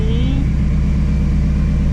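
A loud, steady engine idle from an 800 hp Shelby GT350 warming up, with a low, pulsing rumble close by, a brief rise in pitch at the start, then an even hum.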